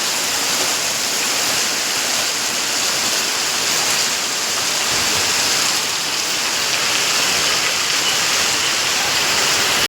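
Rainwater rushing steadily through a village after a heavy downpour, a loud continuous broadband flow with no pauses, close and unbroken throughout.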